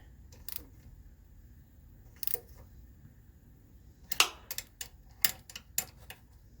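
A ratchet tightening screws into the aluminum housing of an HWH hydraulic pump motor gives sharp clicking bursts, first two isolated clicks and then a quick cluster of ratcheting clicks, all close and fairly loud.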